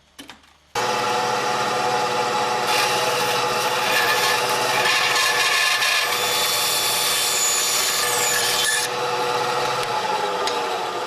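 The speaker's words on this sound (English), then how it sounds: "Next thing I'll do is I'll cut this out on the bandsaw." A bandsaw hums up and cuts through a piece of wood for about ten seconds, its steady whine and rasping blade loud and close, then the cutting eases off near the end.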